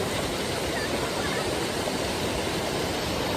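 A big monsoon waterfall near Badlapur roars as a dense, constant broadband rush of falling water, loud and unbroken.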